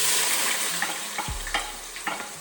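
Purple onion fries in hot oil for a Nigerian seafood stew, making a steady sizzle with a few light spatula scrapes and a low thump as it goes in.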